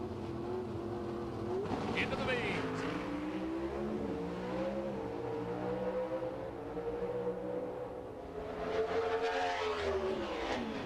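NHRA Pro Stock drag race cars roar down the strip, with engines wailing loudly and rising in pitch across the run. An announcer talks over the steady, near engine noise.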